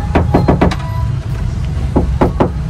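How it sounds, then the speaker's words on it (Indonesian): Knuckles rap on the bare metal body panels of a Toyota Innova with no sound deadening, giving a cluster of quick hollow, ringing knocks, a pause, then a few more, close and loud over a low hum. "kalau belum pasang perdam, kita ketok bodinya akan seperti ini guys"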